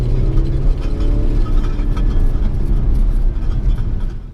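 An Audi SQ5 on the road under hard acceleration, a loud, dense engine and drivetrain rumble heard from inside the cabin, steady and continuous with no talk.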